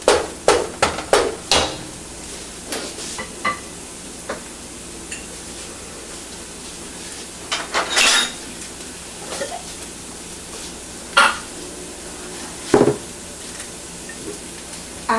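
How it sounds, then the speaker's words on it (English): Mutton frying in a pan while being stirred, with sharp clanks and scrapes of a utensil against the pan at irregular intervals over a low sizzling hiss. "It has to fry for about 5-10 minutes in this pan."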